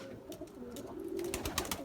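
Pigeons coo softly in the rain, with low, rounded calls repeating over a steady background hiss.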